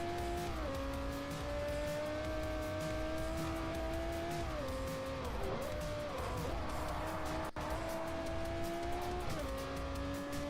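Tires squeal and skid on a car in Forza Motorsport 4, a sustained wavering screech over a steady engine drone, with a sharp thump partway through.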